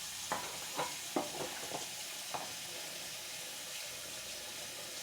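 A kitchen tap running steadily into a sink during dishwashing, a broad even hiss with a few close clinks of dishes early on.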